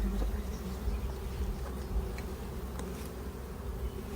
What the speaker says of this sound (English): you can tell that the bees have more of an influx right now than departures